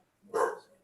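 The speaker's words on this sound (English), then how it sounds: "His dog got my dog barking." A dog gives a single short bark at close range, sharp and fairly loud, with quiet moments on either side and no talking.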